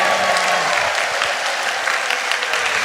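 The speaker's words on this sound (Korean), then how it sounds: "하나님의 성령님께 영광의 박수." A church congregation applauds at a special Holy Spirit revival gathering at Osan-ri. Loud, dense clapping carries on unbroken for a few seconds, with faint crowd sound mixed in.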